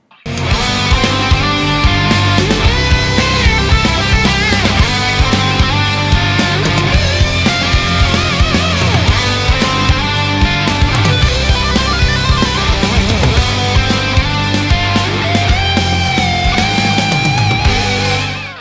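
Electric guitar plays a riff with a full band, dense and loud throughout, driving steadily for the whole stretch.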